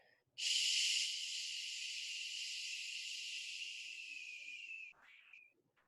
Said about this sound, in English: Exhale, SH.